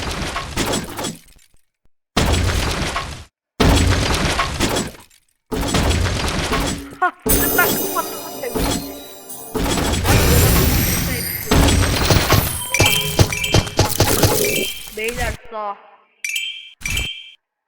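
Floors breaking in the video game Zombotron, a run of loud crashing, shattering bursts broken by short silences, thickening into a long stretch of cracking debris with bright clinks, and a voice talking over parts of it.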